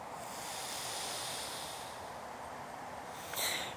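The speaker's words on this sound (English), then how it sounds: "Cover that nostril and breathe out to the other nostril." A soft, steady exhale of breath hissing out through one nostril of a stuffed-up nose, close and quiet, ending with a brief sharper sniff.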